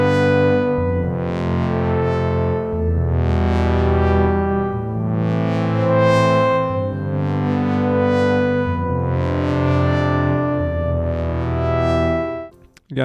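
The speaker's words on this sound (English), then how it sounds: "Moving on, we have a room reverb." A Behringer DeepMind 12 synthesizer plays sustained, overlapping chords through a room reverb effect, each swell rising and decaying smoothly into the next, loud and full, before cutting off abruptly at the end.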